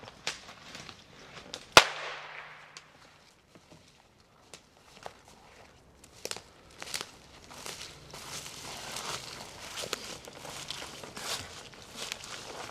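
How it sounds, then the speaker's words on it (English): A single sharp gunshot cracks nearby while a red setter works in the field, followed by scattered footsteps and rustling movement outdoors, with faint occasional sounds. "Fire your gun for me."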